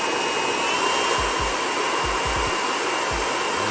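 A Babyliss hair clipper runs on its turbo setting with a loud, steady, high-pitched buzzing whir, broken by a few soft low thumps as it is handled.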